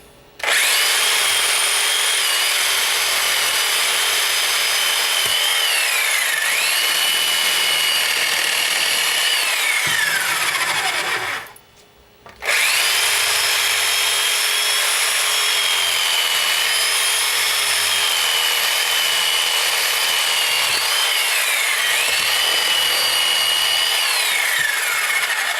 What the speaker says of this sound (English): But let me cut these antlers off now.